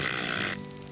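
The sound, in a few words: voice imitating band-winged grasshopper wing crepitation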